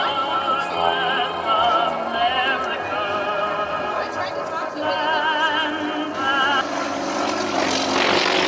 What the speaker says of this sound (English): Another plane with a very cool sounding engine.